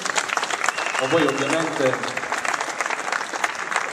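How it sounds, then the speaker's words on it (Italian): Audience applause at a jazz concert at the Troia Music Fest 2011, a dense wash of clapping that swells and then thins, with someone talking over it. "e quindi scatta anche l'applauso"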